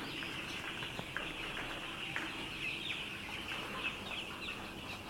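Five-day-old chicks in a poultry farm brooder shed make a steady, faint chorus of high peeping and soft clucking that runs continuously throughout.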